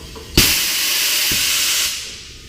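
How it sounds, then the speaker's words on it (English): A sudden sharp blast of compressed air bursts out to seat a tire bead on a rim, followed by a loud sustained hiss with a thud partway through, then tapers off. "make a loud blast, try and pop the rim onto the tire to get our bead seated"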